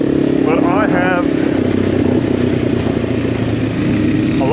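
A Husqvarna 350 FE dirt bike and a PR7 motorcycle ride along a jungle trail in Portugal, their engines droning loudly and steadily throughout while a rider talks over the noise.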